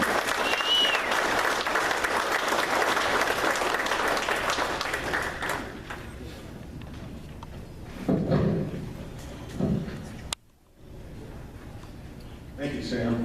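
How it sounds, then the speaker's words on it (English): An audience at a local political group's meeting applauds a visiting guest speaker from a motorists' association: about six seconds of loud, full clapping that dies away, followed by someone speaking into a microphone. "let's give him a great big round of applause. Gary."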